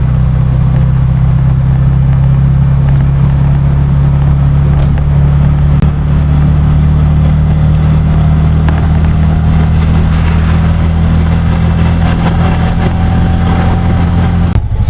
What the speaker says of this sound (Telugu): ఇప్పుడు ఎక్కిన ఆటో పోతున్నాం రూమ్కি